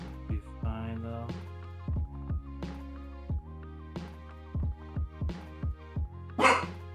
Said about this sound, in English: The puppy indicates that it's about time to go.